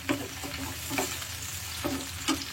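Tomato added to onions sizzling and frying in a pan for chicken kulambu, with steady frying hiss and a few stirring scrapes; no voices.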